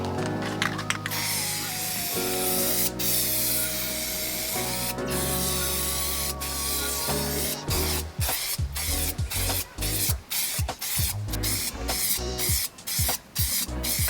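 Long hissing blasts of an aerosol can of Rust-Oleum vinyl wrap spray on a Land Cruiser 100, first sustained bursts, then a rapid series of short sprays with brief clicks between them.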